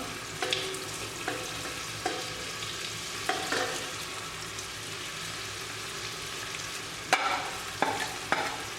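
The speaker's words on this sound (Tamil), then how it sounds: "எல்லாம் வெங்காயமும் தக்காளியும் ஒன்றா சேர்ந்து வர வரைக்கும் வதக்கி விடுங்க" Onion and tomato sautéing in a pan with masala powder for chicken biryani: a steady close-up sizzle, broken by a spoon scraping and knocking against the pan every second or so, with no talking.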